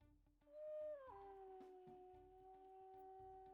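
A long, faint canine howl rises and then slides down to a steady held tone, with quiet background music underneath.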